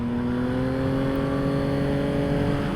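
A 2022 Yamaha XSR900 motorcycle's engine drones steadily at close range on a road ride, its pitch sliding gradually as it comes down through the gears, with continuous wind rush and no talking.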